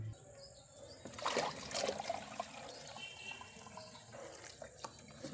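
Water is poured into a betta fish breeding tank, a soft splashing stream that swells briefly and then settles into quieter trickling, close and faint.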